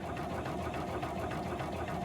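A Weedsickle aquatic weed cutter motor runs steadily up close, a continuous buzzing drone with a fast rattling vibration from its back-and-forth blades, no talk.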